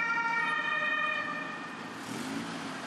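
An ambulance siren wails outside a central city hospital in Ivano-Frankivsk, loud and steady with a wavering tone that fades toward the end as traffic noise remains.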